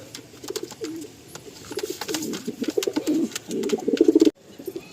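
Pigeons in a loft coo close by, a pair of birds giving soft repeated throaty coos that build in loudness before ending suddenly.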